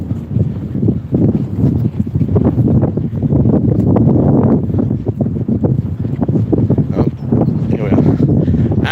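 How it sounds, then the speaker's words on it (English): Strong wind buffeting an outdoor microphone, a loud continuous rumbling roar with gusty surges, a voice faintly heard beneath it. "Out in the wind, so I do apologise, but there's very little I can do about this."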